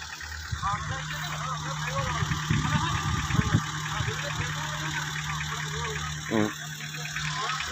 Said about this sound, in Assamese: গাড়ী এখন আহিছে, এইখন হয়তো আমাৰ জেনেৰেটৰ ভানখন হ'ব পাৰে